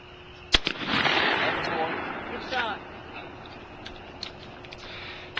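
A shotgun fires once at a night skeet shoot, a sharp near blast followed by a lingering rumble, with people talking over it and a few faint clicks afterward.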